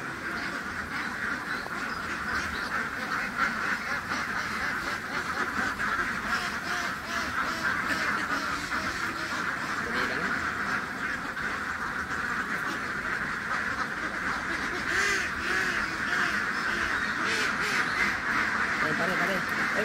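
Ducks quack steadily as they are unloaded from a truck into a duck pen, a dense and continuous chorus of near and mid-distance calls with people talking over it.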